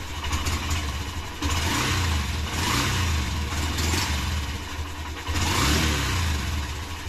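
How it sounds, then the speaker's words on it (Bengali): A warmed-up Honda Shine BS6 motorcycle engine, its throttle cable freshly lubricated, idles close by and is revved in three smooth surges that swell and fall back to a steady idle. "এবার স্মুথ মাখনের মতো চলছে অ্যাক্সিলেটর"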